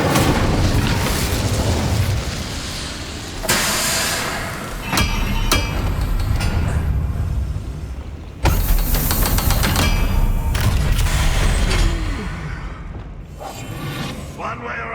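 Incendio fire spell cast in the video game Hogwarts Legacy: several sharp, loud bursts and whooshing blasts with crackling tails, over a steady rumble of game noise and some speech.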